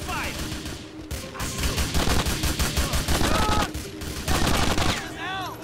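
Dense gunfire from GTA IV: The Ballad of Gay Tony, a near continuous fusillade of rapid shots and bursts lasting several seconds, loud and close, with a few faint voices underneath.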